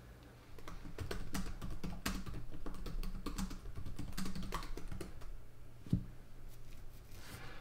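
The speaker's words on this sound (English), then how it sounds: "She's typing, so we will see what she says." Steady typing on a computer keyboard, a dense run of light key clicks lasting the whole stretch over a low room hum, with one louder key strike near the end.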